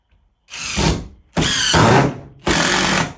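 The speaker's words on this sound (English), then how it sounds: "with your driver, your 2 1/2 inch decking screws or exterior screws" A power driver sinks 2.5-inch decking or exterior screws into picnic table boards in three loud, close bursts separated by short pauses.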